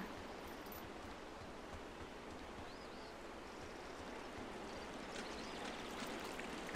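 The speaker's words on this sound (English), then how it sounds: "Ooh, look at the water." A flowing stream in the video game Firewatch makes a steady, soft rushing wash of water, quiet and continuous with no voices over it.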